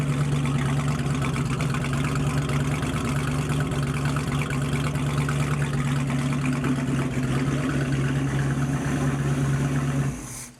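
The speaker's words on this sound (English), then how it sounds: "it sure sounds like it's idling a bit quick" A steady engine idle hums continuously at a slightly elevated, even pitch, close and constant throughout, with no talking.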